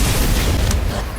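Confringo explosion spell in Harry Potter Magic Awakened, a loud booming blast filling the short moment, with a brief crack partway through and a rising whoosh at the end.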